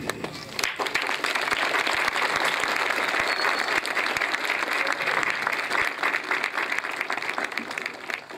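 Audience applause at a community event in Spain, a dense steady clapping from a crowd that fills the whole stretch, fairly loud and close, with a few sharper individual claps standing out.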